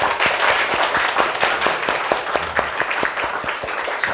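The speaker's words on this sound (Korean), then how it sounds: "우리 하나님께 영광의 박수 한번 드립시다." A congregation at a Korean church seminar claps together in sustained, dense applause, many hands striking in a steady, loud patter from start to finish with no speech over it.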